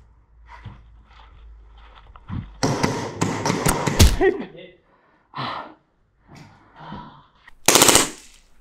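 Novritsch SSP18 airsoft pistol fired full auto blindly through bushes during an airsoft game: a dense, rapid burst of sharp snapping shots, close and loud, with breathy voices and movement noise around it.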